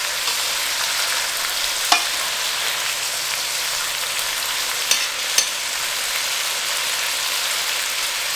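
Almonds and green beans sautéing in oil in a pan, giving a dense, steady sizzle like rain, with a few sharp clicks from stirring, close and continuous without talking.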